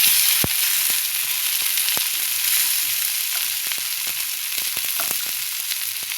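A tomato cooking in a frying pan of mustard paste ground with chili, with a close, continuous sizzle and occasional sharp ticks and pops from stirring and spattering oil.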